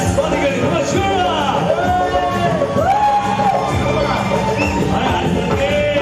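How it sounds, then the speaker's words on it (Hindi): Crowd at an HSBC anniversary celebration in Delhi cheering and whooping loudly and steadily, with many voices shouting over a dense, continuous roar of excitement. "एक बार जोरदार तालियां Miss Swati के लिए"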